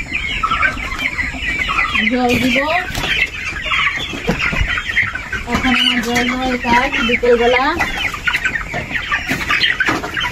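Flock of chickens clucking loudly in a poultry farm shed at dusk, a constant busy chatter with louder squawking bursts, while someone talks over them.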